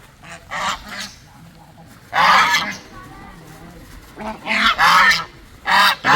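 Geese and swans honking at an artificial pond on a farmhouse property where ducks are also kept, with loud, close bursts of harsh honks separated by quieter gaps and low background noise.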